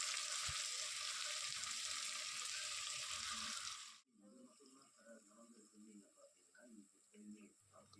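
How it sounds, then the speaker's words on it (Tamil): Tomatoes, green chillies and onion sauté for a vegetable biryani, hissing steadily for about four seconds before the sizzle cuts off and a person talks. "இப்போ தக்காளி வந்து ஓரளவுக்கு வதங்கிருச்சு."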